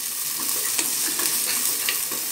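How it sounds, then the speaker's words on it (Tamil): Square-diced onion and capsicum sautéed together in a pan for chilli egg masala, giving a steady, dense sizzle with light stirring scrapes throughout, close and continuous with no talk. "இந்த ஸ்கொயர் ஸ்கொயராக நறுக்கி வச்சுருக்கிற வெங்காயம் இந்த கேப்சிக்கம் ரெண்டையுமே போட்டுருங்க ஒன்றாவே போட்டிட்டு அதையும் நல்லா அப்படி வதக்கணும்"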